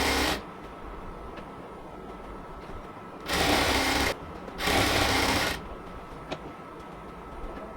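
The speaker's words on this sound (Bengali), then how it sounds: "উপরের দিকে আস্তে আস্তে বর্ডারটা ধরবো, তারপর উপরের দিকে আস্তে আস্তে সেলাই করব।" A sewing machine stitching the border of a yellow cotton dress runs in two short, loud bursts of rapid mechanical whirring, separated by a brief pause, over quiet room noise.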